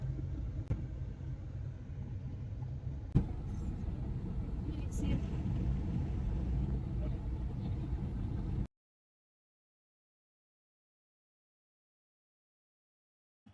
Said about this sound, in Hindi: हम लोग अभी ओला ऑर्डर किए हैं, तो गाड़ी आ रही है।